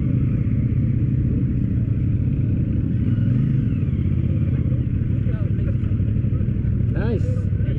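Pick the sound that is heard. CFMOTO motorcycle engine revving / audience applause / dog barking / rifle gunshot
CFMOTO motorcycle engine revving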